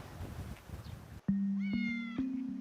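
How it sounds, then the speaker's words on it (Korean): After soft outdoor background noise on Marado island, South Korea, a feral cat lets out one clear, drawn-out meow close by. "고양이들은 섬 곳곳에 있습니다"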